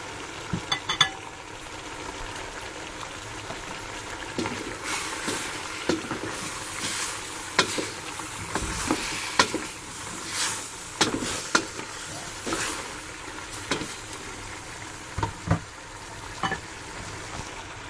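Sliced eggplant sizzling and frying in a pan for Filipino pinakbet, with soft steady crackle broken by repeated louder scrapes and stirring clatters.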